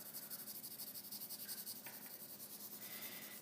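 A pencil shades a drawing of spheres on paper, making a soft, continuous scratchy rubbing with quick back-and-forth strokes, faint and close up with no talking.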